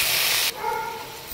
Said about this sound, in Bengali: মুগ ডালটা লো ফ্লেমে ভালো করে ভাজতে হবে